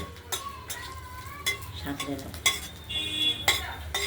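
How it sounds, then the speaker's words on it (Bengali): Fenugreek seeds fry in oil in a pan, giving a light sizzle broken by several sharp clinks and scrapes of a utensil against the pan, with no talk. "এবার আমরা মেথিগুলো দিয়ে দিলাম তেলের মধ্যে দিয়ে দিলাম একটু হালকা ভেজে নেব"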